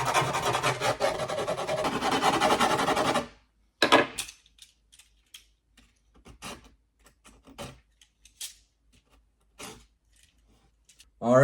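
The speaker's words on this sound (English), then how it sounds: "So that's gonna be a mix of me trimming any loose parts with the razor and then filing down the edges." A file rasps quickly along the edges of skateboard grip tape in a dense, loud burst of scraping, followed by sparse small taps and rustles before another short scrape.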